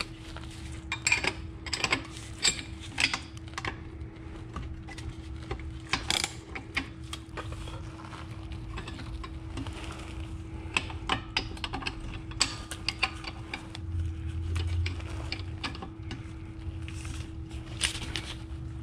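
Wrenches work nuts loose on the rear subframe of a 1983 BMW E21 320i during a subframe drop, giving repeated close metallic clicks and ratcheting taps in irregular bursts over a faint steady hum.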